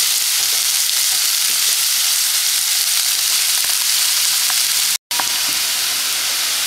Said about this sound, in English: now add onion, and fry for 2 to 3 minutes.